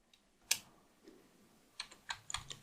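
Kotlin code being typed on a computer keyboard: a sharp lone keystroke, then after a pause a quick burst of several clicking keys, close and fairly clear, with no talking.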